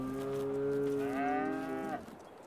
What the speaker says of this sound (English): I honestly can't believe how many of these cows are milking.